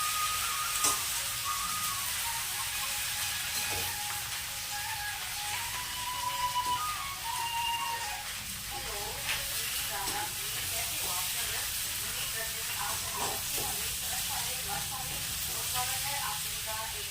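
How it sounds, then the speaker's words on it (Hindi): Vegetables sizzle steadily as they are tempered in a hot pan, a constant hissing crackle with occasional stirring clatter, while faint voices murmur in the background. "सब्ज़ी भी छौंकती जा रही हूँ"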